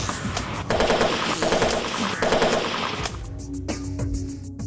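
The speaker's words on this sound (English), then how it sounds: "Imagine trying to cross line after line of this stuff when someone's firing at you with a machine gun." A machine gun of the World War I era firing in rapid sustained bursts, loud and close, before the rattle thins out near the end into lower rumbling.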